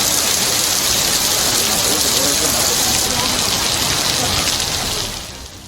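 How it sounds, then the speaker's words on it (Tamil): A sudden heavy summer downpour pours down as a loud, dense, steady hiss of rain close by, easing slightly in the final moments, with no voices. "திடீரென கனமழை பெய்தது"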